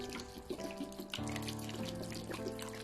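Tap water runs and splashes over an organic cauliflower soaking in salted mineral water in a sink, a steady close trickle with small drips and a fuller gush partway through.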